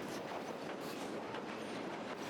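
Freight train rolling on rails in southern Mexico, a steady, dense rumble and rattle of cars over the track, continuous and fairly close with no voices.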